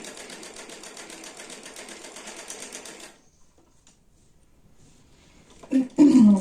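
A sewing machine stitches a shirt seam, whirring steadily and close for about three seconds before stopping. A near-silent pause follows, then a voice starts speaking at the end.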